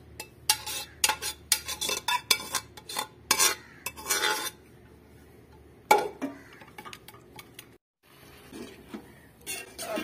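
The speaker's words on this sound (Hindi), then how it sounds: "अब इसकी बुनाई हम कढ़ाई में करेंगे" A ladle stirs pressure-cooked mutton in a kadhai, giving repeated scraping and clanking strokes in irregular bursts, close by, with a brief pause near the end.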